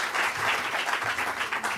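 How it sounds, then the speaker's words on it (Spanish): A room full of people claps steadily, a dense, even patter of applause that holds at full strength throughout. "Un aplauso para ellos."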